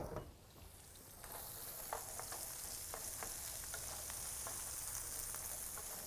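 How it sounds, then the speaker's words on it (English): Carrots and celery seasoned with kosher salt and pepper sauté in a skillet, giving a steady, moderate sizzle with scattered stirring clicks, faint at the start and then continuous. "we're about to go in with our carrots and our celery, and we're gonna give those a quick saute"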